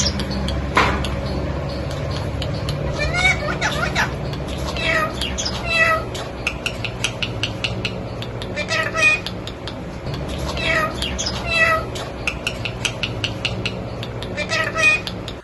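A pet parrot at someone's home mimics a cat's meow in a string of repeated, fairly close meow-like calls, with household murmur and some voices underneath.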